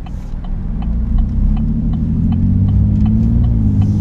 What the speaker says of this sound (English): traffic is horrible around here